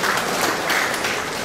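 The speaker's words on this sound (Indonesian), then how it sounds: "Tepuk tangan dulu buat beliau." Audience applauding the Indonesian health minister at a regional coordination meeting in NTT, a steady dense wash of clapping from a large crowd, fairly loud and continuous with no break.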